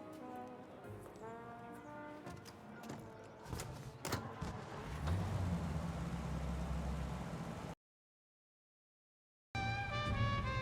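A car drives in the video game Mafia: Definitive Edition, its low engine rumble swelling midway beneath layered music before a brief silence, then the music returns.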